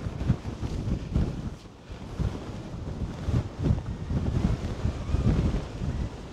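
Strong gusting wind from Storm Kathleen buffets the microphone outdoors on a hike, a steady low roar that swells and dips in broad surges throughout, with no voices.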